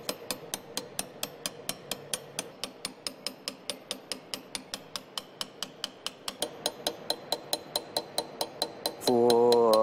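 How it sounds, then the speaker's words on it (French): A hand burin chisel engraves metal in a Liège gunsmith's workshop, giving a steady series of sharp, evenly spaced taps close up, followed at the end by a louder burst of a different sound. "Et je vais venir avec mon burin, buriner pour enlever la matière."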